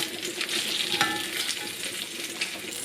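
Bacon fries in a pan as its fat renders down, a steady bright sizzle that stays close and even throughout, with a few faint clinks.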